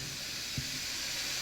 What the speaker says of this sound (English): Oh, that's steam, so we can't go that way.